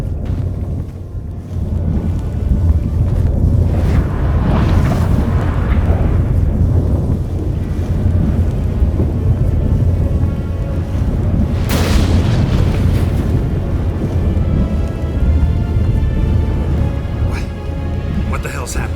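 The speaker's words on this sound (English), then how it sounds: "That a storm?" A storm gathering in The Witcher 3: Wild Hunt, with a heavy, continuous roar of wind and deep rumbling thunder, a loud swell near the twelve-second mark, and voices talking over it.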